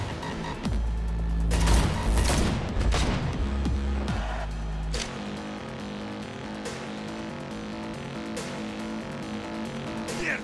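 Rapid gunfire from a car chase in Cyberpunk 2077, loud dense bursts over a heavy rumbling low end for the first five seconds, then a steadier mechanical drone with scattered sharper shots.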